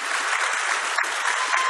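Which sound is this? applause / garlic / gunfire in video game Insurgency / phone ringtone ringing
applause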